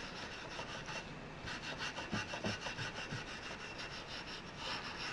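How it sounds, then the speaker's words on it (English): Wire wool is rubbed back and forth across an old spinning rod handle, a close, steady scratchy scrubbing with a regular stroke rhythm and no talk over it. "I'm going to gently take this wire wool across it"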